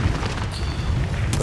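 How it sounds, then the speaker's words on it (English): A grenade blast in Call of Duty: Warzone, a deep booming rumble that fills the moment alongside game noise and a player's voice. "Grenade out!"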